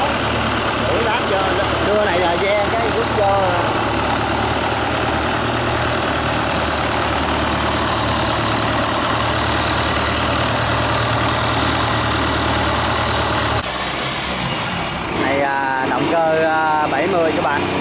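Steady idling engine of a small boat, a continuous low throbbing drone running throughout, with people talking over it and a brief shift in tone near the end.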